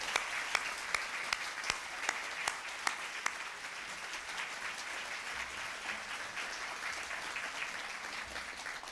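Audience clapping for award winners at the Grawemeyer Awards ceremony, a steady sustained round of applause heard from some distance, with a few sharper individual claps standing out early on.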